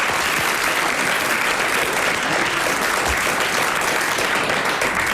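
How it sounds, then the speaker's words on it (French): A French television game-show studio audience claps for a winning contestant, a loud, dense and unbroken burst of applause that fills the whole stretch with no talk over it. "Vous l'applaudissez comme elle le mérite."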